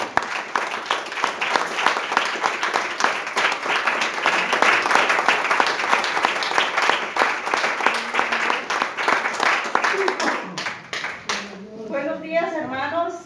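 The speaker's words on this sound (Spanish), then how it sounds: "El Señor se merece un aplauso," A church congregation applauds, dense steady clapping from many hands for about ten seconds before it tapers off and a voice begins speaking.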